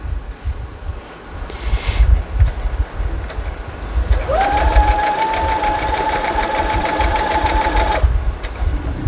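Sewing machine stitching a quilt corner unit: after some rustling and handling, the motor starts with a rising whine and runs in a steady, fast, close mechanical hum for about four seconds, then stops.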